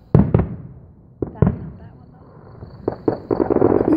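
Fourth of July fireworks going off outdoors nearby, several sharp booming bursts in irregular clusters with crackling tails, the later ones crowding together into a denser rattling volley.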